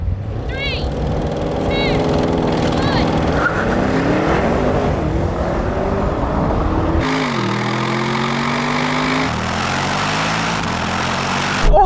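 BMW M5, Audi RS6 and AMG E63S estates drag racing: loud engines roar and rise steadily through the gears, with a sudden jump to a higher, harsher revving tone partway through, while someone talks excitedly over the noise.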